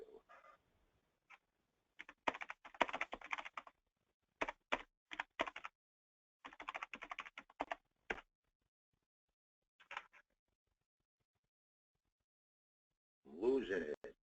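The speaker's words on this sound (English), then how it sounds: "I'm typing in the wrong one." Login typed on a computer keyboard, quiet bursts of rapid key taps separated by pauses, close and faint, with a brief voice at the end.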